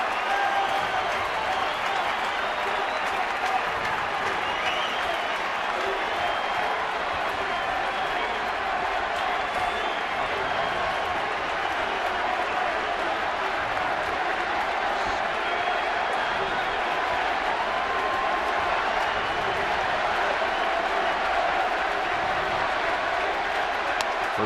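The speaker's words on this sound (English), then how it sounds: "And now the sellout crowd on their feet for Matt Kemp." A sellout crowd at a baseball stadium cheers and applauds in a steady, dense roar that holds without pause, with a voice faintly audible underneath.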